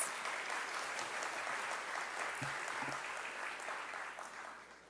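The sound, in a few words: audience applause for dance performance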